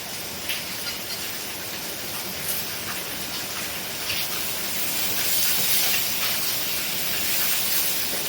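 Radish greens frying with shrimp in a pan, giving a steady close hiss and sizzle that rises slightly in the later seconds, with no voices over it.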